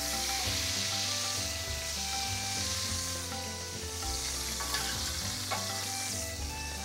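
Bacon frying in a pan for coq au vin, a dense continuous crackling sizzle with faint stirring and scraping underneath, steady and close throughout, no speech.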